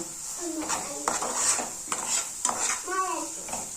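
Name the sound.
stirring fried soya mixture in a pan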